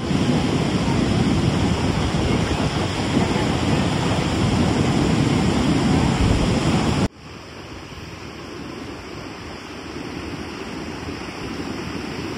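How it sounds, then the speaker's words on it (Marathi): Sea waves wash continuously onto Guhagar beach on the Konkan coast of Maharashtra, a loud, broad roar mixed with wind buffeting the microphone that drops suddenly to a softer surf wash partway through. "तब्बल 1 वर्षानंतर मी पुन्हा घॉगर बीचला आलो"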